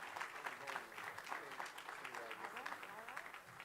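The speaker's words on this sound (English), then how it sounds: "So let's give her another round of applause" Audience applause fills a legislative policy conference hall, dense and steady clapping from a crowd that runs the whole stretch at moderate distance.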